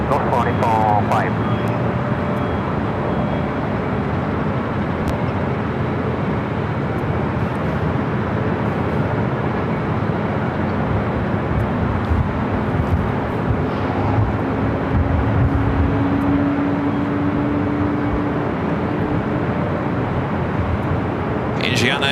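Heavy airliner taking off from runway 24 left at LAX, a loud sustained roar of jet engines building and rolling steadily from a distance, broad and continuous, with a voice talking over it.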